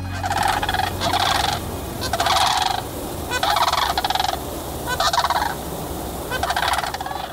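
Sandhill cranes call at Horicon Marsh, a major Wisconsin staging area, in about six loud rattling bursts that repeat at a steady pace with short gaps between them.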